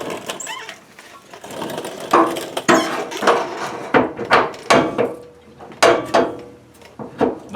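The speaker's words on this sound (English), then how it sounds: "turn your speakers down when you see me get a hold of this impact" An impact wrench works the fuel tank strap bolts on a 1976 Malibu, sounding as loud, close bursts of rapid hammering rattle, stopping and restarting in short repeated pulses.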